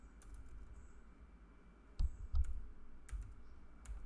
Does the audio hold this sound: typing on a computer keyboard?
yes